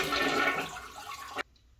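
A toilet flushes with a loud rushing, gurgling wash of water that tapers off, then cuts to near silence; a plumbing fix during vinyl floor work, with a disliked valve.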